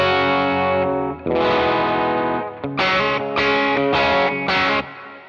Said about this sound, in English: If I turn this off and I go over with the fat switch, it sounds like a totally different amp.